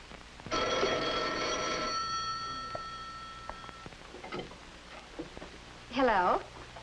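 An old telephone bell rings once in a long bright trill, then fades into quiet room sounds with light movement and a short voice near the end, from a 1951 film.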